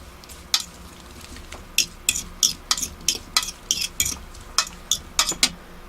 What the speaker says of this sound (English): And we just mix it all up.